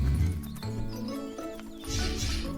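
A horse trots through woods nearby, its hooves clip-clopping over a short stretch amid light background sounds.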